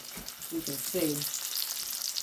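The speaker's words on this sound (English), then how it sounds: "And then we're just going to start frying it." Breaded thick pork chops in batter frying in a pan, a steady broadband sizzle running throughout with a brief spoken remark over it.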